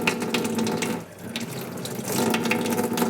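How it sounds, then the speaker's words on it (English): Water gushes steadily from a hose into a home aquarium during tank maintenance, a continuous rushing splash that briefly softens before running strong again. "So fill it up with water."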